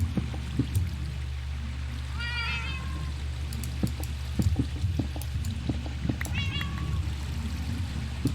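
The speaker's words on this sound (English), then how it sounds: "Yes, be quiet, cat." A cat meows nearby, two distinct meows a few seconds apart, heard over a steady trickling water-like background and scattered clicks.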